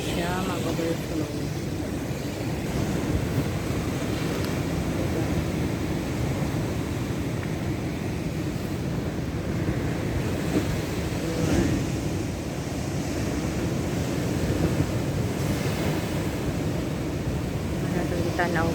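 Strong ocean waves at Galas Beach, Dipolog City roar as a continuous broadband wash mixed with wind buffeting the microphone, steady and loud for the whole stretch.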